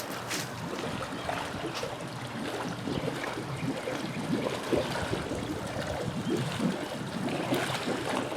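Water in a backyard pool's skimmers bubbles and trickles in soft, irregular gurgles over a low, steady wash, fairly quiet and close, with no voices.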